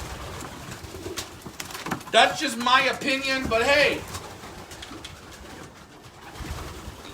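Racing pigeons coo in a race loft, a soft burbling call rising near the middle of the clip while someone talks over it and steady loft background noise runs underneath.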